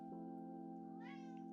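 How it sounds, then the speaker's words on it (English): A cat gives a faint meow that rises near the end, over a steady droning hum in the background. "Oh, meow!"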